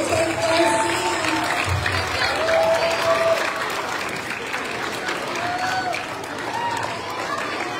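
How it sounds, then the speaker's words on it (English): A school assembly audience gives sustained applause as students return to their seats, a dense wash of many hands clapping in a large room, loud at first and easing slightly, with scattered voices and whistles mixed in. "Let's give them another round of applause as they take their seats."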